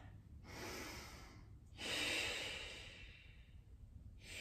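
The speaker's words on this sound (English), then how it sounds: "One last deep breath." A slow, deep breath at the end of a prone Pilates workout: a soft airy inhale followed by a longer, fuller exhale, close and quiet.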